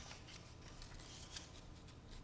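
Scissors snip through a long paper strip for papering box edges, a quiet run of soft crisp cuts repeating close by with no talking.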